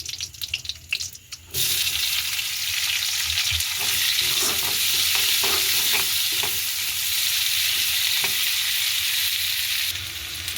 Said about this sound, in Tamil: இப்போ பார்த்தீங்கன்னா வெங்காயம் மெதுவாக வதங்கி கொண்டு வருது